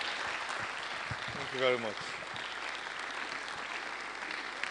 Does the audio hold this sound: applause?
yes